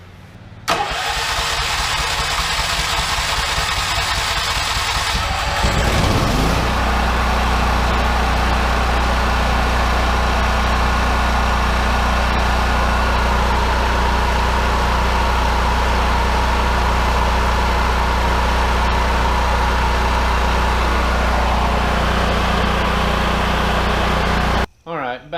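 A big generator running on a small propane kit, starting up with a surge and then droning steadily at close range for the rest of the stretch, a loud continuous engine hum with faint voices now and then.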